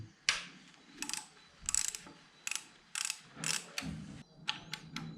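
Hex 4 bolt being worked loose from a BMW N52 engine during cylinder head removal, heard as bursts of quick metallic ratcheting clicks in short repeated strokes, close and fairly quiet, with no talking.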